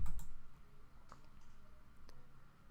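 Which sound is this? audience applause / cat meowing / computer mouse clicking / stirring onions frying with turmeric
computer mouse clicking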